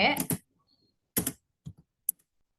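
Keystrokes on a computer keyboard entering text into a filter box in ACL software come in a few short, close bursts of clicks separated by silent pauses.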